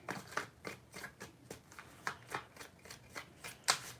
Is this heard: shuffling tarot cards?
yes